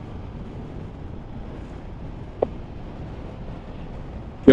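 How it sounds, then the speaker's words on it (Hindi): Strong wind buffets a microphone while travelling past open fields on the way to Schwerin in Germany, a steady broadband rush throughout with a couple of brief bumps. "क्या जबरदस्त हवा चल रही है"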